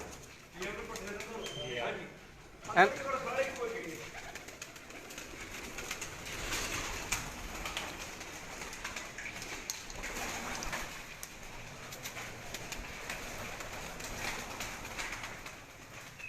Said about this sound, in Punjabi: ਉਹਨਾਂ ਦੇ ਪ੍ਰਵਾਜ਼ੀ ਕਬੂਤਰ ਨੇ ਜੀ